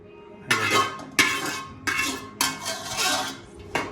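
Rice scooped from a pot in a home kitchen during a biryani party with friends, with five sharp metallic scrapes and clinks of a utensil against the pot, close and loud, evenly spaced, with no talk.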